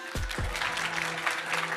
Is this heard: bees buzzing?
no